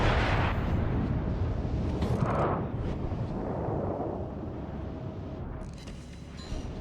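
Warship naval guns fire in the game World of Warships: Legends, heavy booming salvos with rumbling low-end tails and a dense battle ambience that decays across several seconds.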